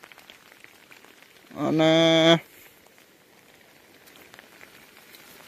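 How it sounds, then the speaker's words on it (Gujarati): Rain falls steadily in the Gir forest as a soft, even patter, broken by a loud, brief tonal animal-like call; a voice says a single word. "જો મિત્રો, વરસાદ પડે છે આરામ હારો"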